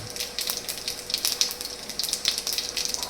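Cumin seeds crackle and sizzle in hot oil for a green corn chevdo, a steady close frying hiss with quick popping bursts throughout, no voices.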